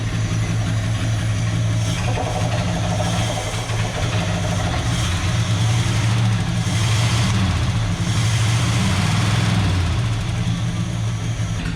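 A 1976 Chevrolet Scottsdale K20 4x4 pickup, revived after 20 years abandoned, idles with a slight bottom-end knock, a close, continuous low rumble with faint irregular ticking, while people talk over it.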